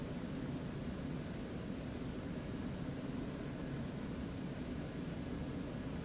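Citation Mustang jet engines at full takeoff power in the X-Plane flight simulator: a steady, loud, unbroken roar with a faint high whine, constant throughout without pause.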